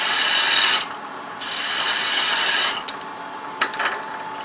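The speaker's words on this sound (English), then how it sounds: "Just remove those ruts." A spindle gouge cuts spinning wood on a lathe while shaping a baby rattle with captive rings: close, loud bursts of scraping and hissing, two sustained passes followed by a few brief touches.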